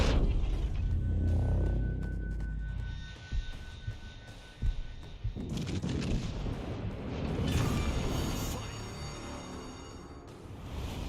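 Heavy naval gunfire booms from warships in World of Warships Legends, a dense rumbling barrage of deep thuds and rolling low blasts that continues steadily across the whole stretch, with no voices over it.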